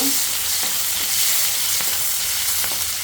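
Onion and bay leaf fry in oil for a fish curry, a loud, dense sizzle filling the short stretch with a few faint stirring clicks, close and uninterrupted.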